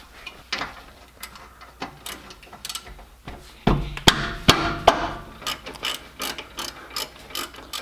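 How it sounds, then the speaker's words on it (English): A socket wrench loosens 15 mm bolts at the rear of a Chevrolet F-body drift car, with quick rapid ratcheting clicks in bursts, then heavier sharp knocks and a run of rhythmic clicks, close and fairly loud. "So these bolts here are a 15 millimeter. And I am going to need a shallow socket."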